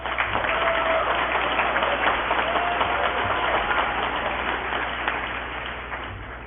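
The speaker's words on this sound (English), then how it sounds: "Let's give them a round of applause, please." Graduates at a 2018 commencement ceremony receive a steady round of audience applause, a dense wash of clapping that holds fairly level throughout and fades slightly toward the end, with no clear talk over it.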